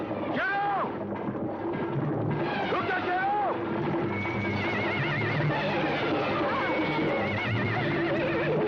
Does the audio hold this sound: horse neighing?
yes